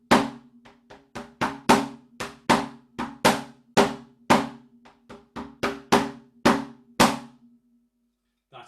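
A single drum is struck in a lively rhythmic pattern, loud sharp hits with quicker lighter strokes between them, played solo with no talk, ending in a short silence and one last tap.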